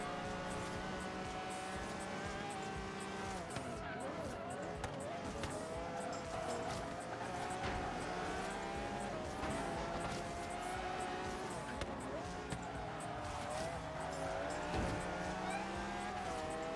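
Car engines roar continuously in Forza Horizon 3 free-roam racing, with loud, steady engine drone and scraping as a car grinds along a wall, mixed with game music.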